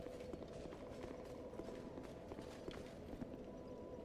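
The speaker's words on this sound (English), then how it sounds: "I hear footstep." Footsteps in a bloodstained building, a series of soft irregular steps over a low droning background, faint and somewhat distant, with no talking.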